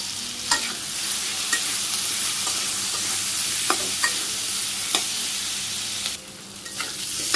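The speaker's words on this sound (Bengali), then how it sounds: "শুকনো মরিচের গুঁড়ে কষিয়ে নিই, ভালো করে কষাম। এখানে আমি আরও একটু কাঁচা পেঁয়াজ দিয়ে দিলাম।" Vegetables with dried chilli powder and raw onion stir-fry in a pan, a steady close sizzle broken by scattered scrapes and clinks of a stirring spoon, with no talk.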